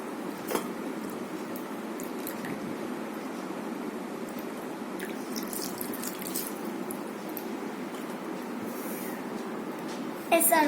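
Water runs and drips over hands being washed with homemade paper soap, a soft continuous splashing trickle with a few sharper drips and a brief louder burst near the end.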